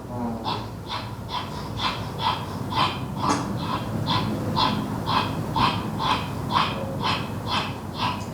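Loud, heavy breaths repeat in a steady rhythm, about a dozen forceful exhales and inhales, close up and with no talking.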